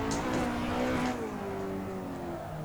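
A drift car in Assetto Corsa revs hard through clutch kicks, its engine note climbing and then dropping in a loud, close, continuous sim-racing drone.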